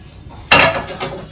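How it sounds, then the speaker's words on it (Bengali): Ingredients get tipped from small containers into a bowl, a sudden clattering pour with a dish knock midway, followed by a softer second rustle, fairly close. "এবার এই সমস্ত জিনিসগুলো আমি একটা বাটির মধ্যে ঢেলে দিচ্ছি"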